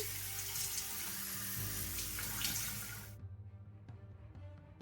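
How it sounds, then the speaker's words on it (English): A bathroom sink tap runs steadily while someone washes their face, the broad splashing flow lasting about three seconds before it is shut off, leaving faint drips and small handling sounds. "Do not leave your water running"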